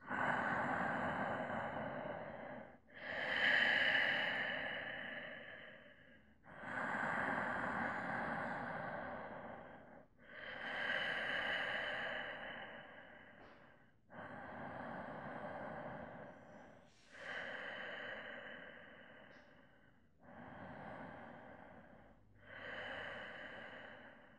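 Slow, deep breaths during a yoga practice, about eight long audible inhale-exhale cycles close to the microphone, each lasting a few seconds, in an otherwise quiet room.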